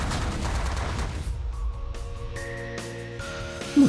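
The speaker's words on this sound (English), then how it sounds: "those missiles are really starting to hurt" Missile impacts and gunfire batter a ship in the space strategy game The Last Federation, a dense rumbling barrage of blasts in the first half that gives way to sustained tonal hums and beeps, with a sharp hit near the end.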